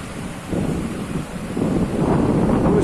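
Wind on the Benidorm seafront in Spain buffets the microphone in a steady roar that rises and swells, with no voices and a faint wash like distant surf.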